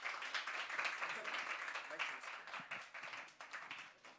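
An audience claps to welcome an Amazing Grace worship performance, a dense burst of many hands that gradually thins and loosens toward the end.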